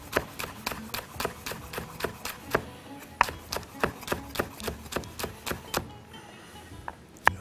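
A knife chops hot green chili on a cutting board in a quick, steady rhythm of crisp close taps that stops near the end.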